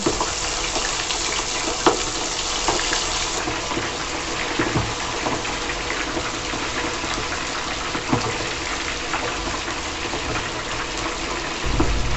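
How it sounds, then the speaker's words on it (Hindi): Chicken pieces frying in very hot oil over a high gas flame, giving a steady, dense crackling hiss that runs unbroken and fairly loud throughout, with no voices. "चिकन को तेज गरम ऑयल में डालकर फ्राई करके अच्छी तरह निकाल लेंगे"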